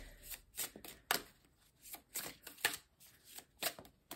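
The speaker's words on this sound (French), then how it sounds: "on va prendre une carte de l'oracle de la fleur de vie" Oracle cards from a Flower of Life deck are shuffled by hand, a close series of papery riffles and slaps in uneven bursts with brief pauses, no voice heard.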